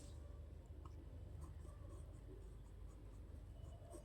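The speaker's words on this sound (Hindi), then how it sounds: "तो अलग अलग लिखते हैं।" Pen writing on paper while working out brick quantities, soft scratchy strokes close up, faint beneath a low background hum.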